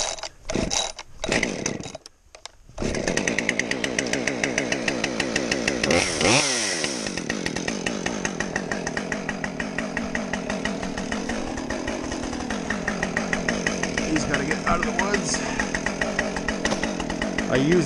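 A Husqvarna 550XP Mark 2 chainsaw cuts firewood: a few opening pulls and sputters, then the engine revs up and screams at high, steady speed, up close, with small pitch dips as it loads.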